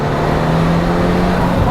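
Twin-turbo Datsun 240Z accelerating away, a loud, close engine note that climbs steadily in pitch as it pulls, with cabin and road noise around it.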